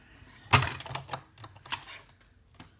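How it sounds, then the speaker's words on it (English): A die-cutting machine cuts small paper pieces for a card, producing a quick run of irregular, close mechanical clicks and clacks, with one louder snap near the start. "I'm just going to put that in and die cut that."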